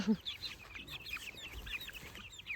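Several chickens cluck and chatter softly nearby, a busy run of short calls repeating across the moment with no one talking.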